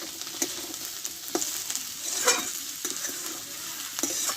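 Peas and potato curry with chopped coriander leaves being stirred in a pan, a soft continuous sizzle with repeated scraping strokes of a spatula, close up and without speech.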